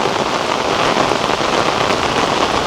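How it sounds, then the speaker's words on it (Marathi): Heavy monsoon rain in a Konkan village pours down steadily, a dense close hiss of drops drumming on surfaces that stays constant throughout with no talking. "खूप पाऊस आता."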